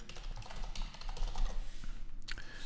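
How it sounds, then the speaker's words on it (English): Password being typed on a computer keyboard at close range: a quick, steady run of light key clicks with no talking. "I'm just going to type in a password."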